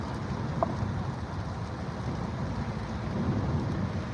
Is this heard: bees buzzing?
no